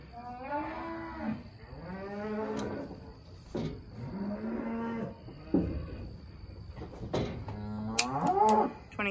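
Cattle on a farm weaning day, several long drawn-out moos from more than one cow, repeated through the clip at moderate distance, with a higher bawl near the end and no talk.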